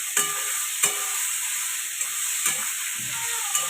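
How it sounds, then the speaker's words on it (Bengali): Ingredients frying in oil for a spicy bitter-gourd dish while being stirred, a continuous close sizzle broken by sharp, regular scrapes of the spoon roughly every half second to second. "ভালো করে আমি তেলের মধ্যে নাড়াচাড়া করে নেব"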